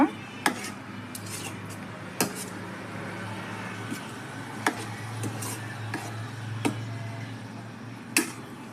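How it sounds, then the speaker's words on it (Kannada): Shahi paneer ingredients with fresh cream are mixed together in a bowl, with sharp spoon clinks every second or two over a low steady background hum. "ಒಂದ್ಸಲ ಎಲ್ಲ ಕಲಿಸ್ಕೊಂಡ್ಬಿಡೋಣ"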